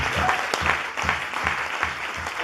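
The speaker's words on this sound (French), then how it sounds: "Est-ce qu'on peut acclamer ce Jésus?" A church congregation claps together in a steady rhythmic beat, a full room of hands sounding close and even for a couple of seconds.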